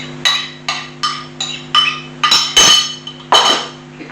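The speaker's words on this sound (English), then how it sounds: "Give the mixture a really good stir to mix all those breadcrumbs, potato, herbs, salmon, all equally mixed up together" A salmon, breadcrumb, potato and herb mixture stirred in a bowl, with about a dozen sharp clinks of a utensil striking the bowl in an uneven rhythm, loud and close, over a steady low hum.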